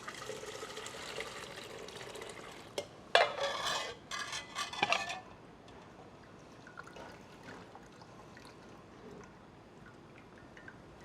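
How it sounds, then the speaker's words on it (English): Pork adobo marinade liquid being strained in a kitchen, with a brief burst of pouring and trickling plus light clinks of utensils against a pot, fairly faint and close, then settling to quiet handling. "I just going to strain it."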